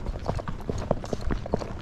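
A Tennessee Walking Horse walks uphill on a trail, with close, irregular hoofbeats thudding steadily in a quick rhythm and no talk over them.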